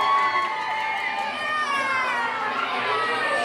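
A wrestling crowd at an independent show cheers and shouts continuously, a dense, steady roar of voices filling the whole stretch without pause.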